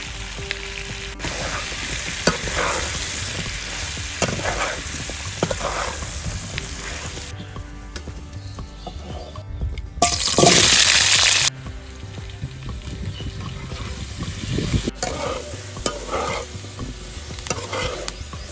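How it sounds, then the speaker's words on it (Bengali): Potatoes frying in oil and being turned, a loud close sizzle with repeated stirring scrapes and knocks, a brief burst of harsher hissing midway, without speech. "এই যে আলুগুলো ভাজা হয়ে গেছে এবার তুলে নেব"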